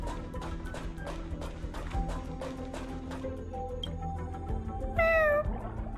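Cute cat creature in the Honkai Star Rail video game meowing clearly over steady game music, several meows ending in a rising, louder cry near the end.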